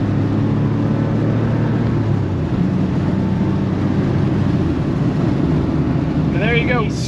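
Inside a 1987 Porsche 911 Carrera under full throttle acceleration, a loud, steady roar of engine and road noise fills the cabin, with a rising tone appearing near the end.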